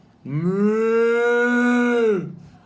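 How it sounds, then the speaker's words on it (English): A single cow gives one long, loud, close moo, a steady tonal low for about two seconds, with no other sounds around it. "When you think of Taurus, you think of the cow."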